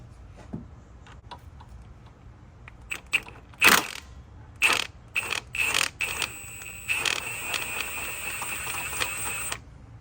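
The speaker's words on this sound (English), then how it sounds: "I'm gonna go ahead and use the impact." An impact wrench removes bolts on a 2010-2013 Acura ZDX during timing belt work, sounding as a series of short, loud, close rattling bursts with small metallic clicks between them.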